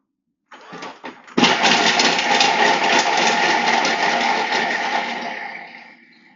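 A food processor whirs at speed 5 as it chops half an onion, the motor starting with a couple of short bursts and then running steadily and loudly for several seconds before winding down.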